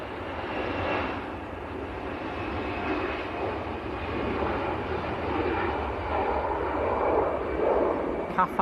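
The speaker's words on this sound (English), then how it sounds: "This is the EasyJet to Dalaman." An EasyJet airliner bound for Dalaman at Manchester Airport, its jet engines a sustained moderate roar that swells slightly toward the end, with someone talking over it.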